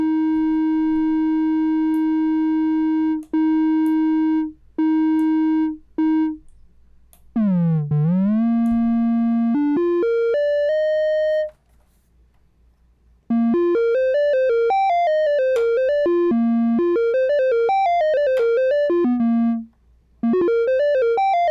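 A one-oscillator Eurorack mono synth plays alone: clean, sine-like sustained notes, then a swooping pitch bend, then a fast run of bright bouncing notes, loud and close.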